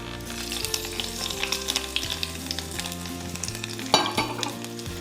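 A hot tempering poured into Kerala-style beetroot pachadi sizzles and crackles steadily, with a sharper burst near the end, heard alongside a sustained musical background.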